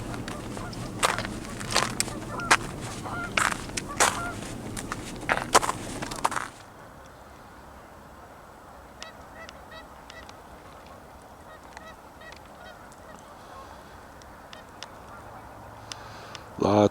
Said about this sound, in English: Lots of goose activity all up and down the river